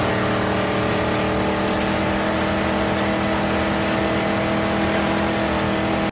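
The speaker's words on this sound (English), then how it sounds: "Listening to that engine is kind of therapeutic for me." Car engine in the Mad Max video game, a loud sustained droning rev with a steady low hum throughout, alone without talk.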